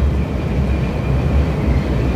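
Inside a Korean bullet train cruising at 287 km/h, a steady, loud low rumble and rushing roar holds constant throughout, with no voices.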